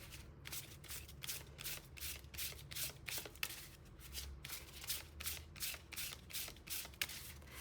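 Tarot cards are shuffled close up in quick, repeated riffling bursts with a steady rhythm. No one speaks.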